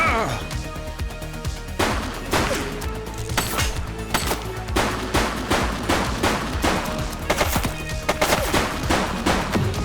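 Rapid gunfire in the police video game The Precinct, dense, loud bursts of repeated shots crackling almost continuously, with voices shouting in between the volleys.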